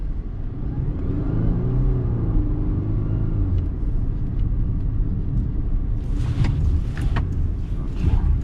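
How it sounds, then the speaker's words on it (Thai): A Volvo V60 station wagon swerving suddenly during a lane-change test at a driving event: a steady loud engine and road rumble throughout, with brief tire and wind noise toward the end. "ก็สามารถ หักหลบกระทันหันได้อย่างมั่นใจ เช่นกันเหมือนกันนะครับผมกับเจ้า V60 คันนี้นะครับ"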